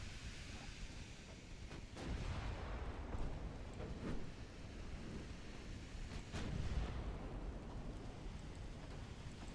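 Warships trade gunfire in Ultimate Admiral: Dreadnoughts, with several deep, booming cannon blasts spaced a few seconds apart over a low rumbling background, fairly faint overall.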